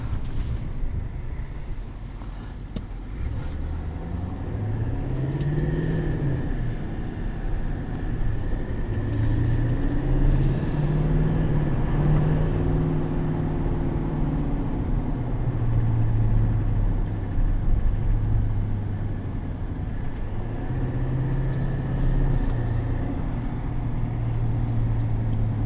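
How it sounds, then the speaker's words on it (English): Exhaust brake engaged on a 2020 GMC Sierra 2500HD Denali diesel pickup, a deep rumbling engine drone rising and falling in pitch over a long stretch, heard from inside the cab. "You do have an exhaust brake, which I activated now."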